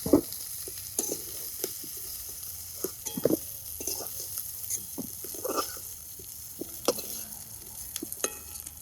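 Spice paste fries in hot oil in a wok, lifted out with a spatula: a close, steady sizzle with scattered scraping and stirring clicks throughout.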